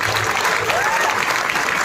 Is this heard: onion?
no